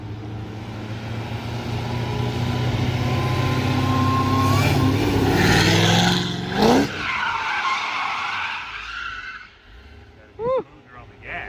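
Supercharged Cadillac Blackwing on a drift lesson: a loud, steady engine drone with tire skidding that rises into sharp screeching squeals near the end, with voices talking over it.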